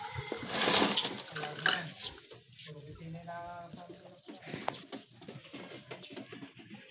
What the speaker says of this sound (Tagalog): Gandang kalapate rin